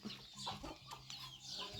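Chickens cluck in short bursts close by, a few soft calls overlapping in a quiet farmyard, faint overall with no one speaking.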